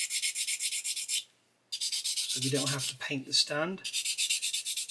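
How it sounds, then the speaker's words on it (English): Sanding the seam of a Meng 1/72 Harkonnen Ornithopter plastic model kit: a steady, close rasping rub repeated in quick regular strokes, pausing briefly once, while someone speaks over the later strokes. "we may be able to just get away with sanding the seam"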